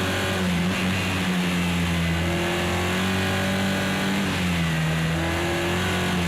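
A racing car engine in Project Cars 2 drones loudly and continuously during a BTCC-style race against AI opponents, its pitch rising and falling through gear changes with no talk over it.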